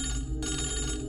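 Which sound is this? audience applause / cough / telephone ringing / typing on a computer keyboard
telephone ringing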